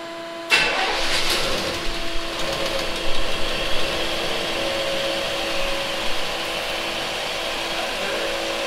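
A small block car engine, just rewired with its distributor turned, cranks briefly and then catches, settling into a steady, fairly loud idle with slight fluctuations.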